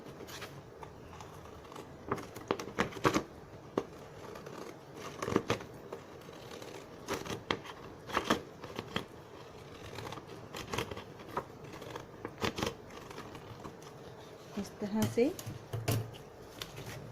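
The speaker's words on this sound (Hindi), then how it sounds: "ये जिगजैग सीजर की हेल्प से कुछ स्टिक्स काट लेते हैं।" Zigzag scissors snip strips from a paper sheet with a scattered series of sharp, crisp cuts under quiet talk nearby.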